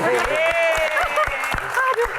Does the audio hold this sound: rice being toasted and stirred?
no